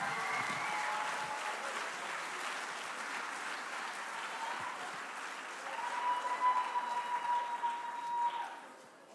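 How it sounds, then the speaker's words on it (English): Sustained audience applause fills a school auditorium at a 12th grade academic awards ceremony honoring Silver High Honors recipients, steady at first, then swelling louder near the end before fading. "Ladies and gentlemen, another round of applause for our Silver High Honors Award recipients."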